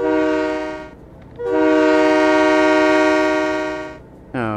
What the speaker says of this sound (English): Oh, horn.